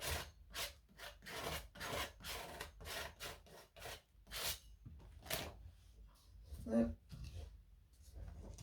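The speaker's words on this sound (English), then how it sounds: "I'm just taking a little bit of gesso and I'm going to come in here and just scrape it on." Gesso being scraped onto a surface with a palette knife or tool in a mixed-media craft setting, heard as a series of repeated rasping strokes, fairly close and moderately loud, with a brief soft knock near the end.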